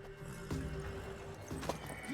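A horse moves in The Witcher 3 video game, giving a few soft, quiet hoof thuds over a low ambient hum, briefly and at a distance.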